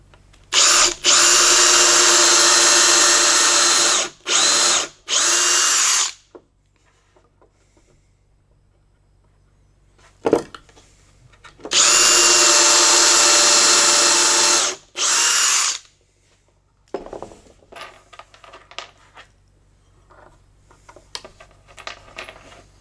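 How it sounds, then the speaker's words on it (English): A power drill bores pilot holes for screws into wood while a plane is being secured to a panel, with two loud sustained bursts of several seconds each, separated by short pauses, then quiet handling clicks and clatter. "we'll drill a pilot hole for the screws"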